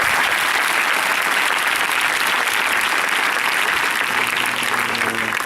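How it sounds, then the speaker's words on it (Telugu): A crowd of school students in a high school applauds loudly and steadily, a dense, sustained clapping that carries on without a break and does not fade. "ఒకసారి క్లాప్స్ కొట్టండి అందరికీ."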